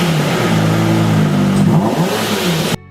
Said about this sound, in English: The Lamborghini Murcielago LP 640, owned by Jason Statham, is the rear-wheel drive model